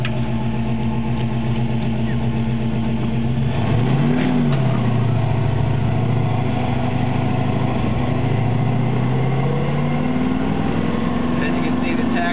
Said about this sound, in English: You can hear that solid lifter engine. I chose to put Flowmasters on it